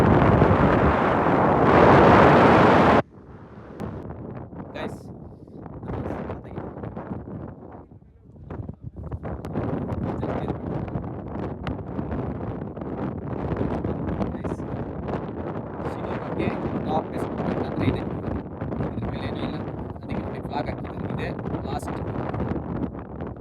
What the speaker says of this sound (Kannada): ನೀವೇ ಒಂದ್ಸಲ ಗಾಳಿ ಸೌಂಡ್ ಕೇಳ್ಕೊಬನ್ನಿ